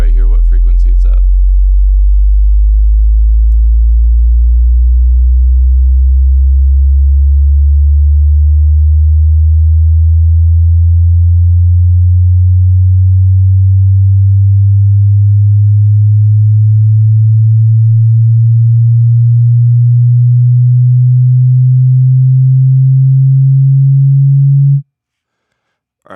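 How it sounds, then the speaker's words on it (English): A studio subwoofer plays a loud, pure sine wave that glides slowly upward in pitch from a deep rumble to a low hum over about 25 seconds. It gently pulses in level, then stops abruptly after a brief click at the start. "And let's do sweep. So you can see right here what frequency it's at."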